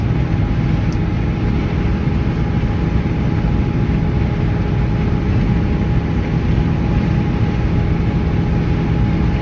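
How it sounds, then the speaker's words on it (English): A 1950 Ford F-1 truck cruising at about 55–60 mph, giving a loud, steady, continuous road and engine drone with low rumble throughout, without talk. "This truck is just a joy to drive."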